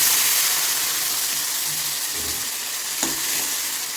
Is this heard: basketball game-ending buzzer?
no